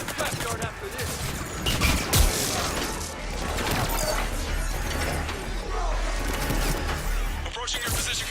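Gunfire crackles in the Mass Effect 3 Citadel DLC, with dense bursts of shots and mechanical clatter running beneath a voice talking.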